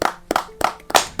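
A few sharp, separate hand claps ring out in a slow, uneven rhythm, close and fairly loud, from a small group in a podcast studio rather than a full audience.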